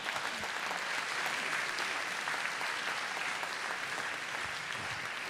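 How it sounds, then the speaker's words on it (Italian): A theatre audience at the Teatro Massimo in Cagliari, Sardinia, applauds during the SUNS event, with dense, steady clapping from many hands filling the hall for about five seconds at an even level. "Applausi. Forza."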